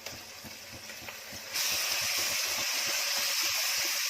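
Ginger, garlic and garam masala hitting hot oil with fried onions in a pan for chicken curry, a quiet hiss that jumps to a loud, steady sizzle partway through and keeps going.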